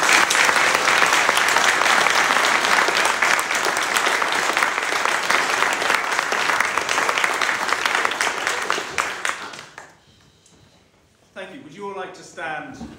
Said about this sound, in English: So let's give Richard another round of applause.